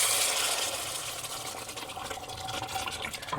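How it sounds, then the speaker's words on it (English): Water goes into a pot of beans curry as a continuous close rushing pour that lasts the whole moment and settles slightly toward the end. Nobody speaks. "at this point now what you want to do is add about 3 cups of water"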